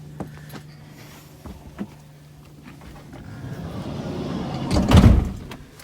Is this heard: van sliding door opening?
yes